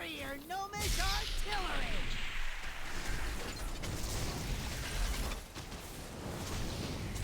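Buster Cannon firing and explosions in a World of Warcraft Battle of Dazar'alor heroic raid: mechanical whirring and rattling, then bursts and rumbling blasts amid dense game noise, fairly loud and continuous.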